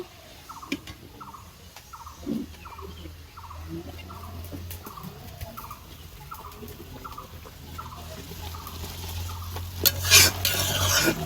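Egg frying in a pan at home, a soft steady sizzle running throughout with repeated rhythmic scraping or stirring strokes and occasional clinks, fairly close and moderately quiet with no talking.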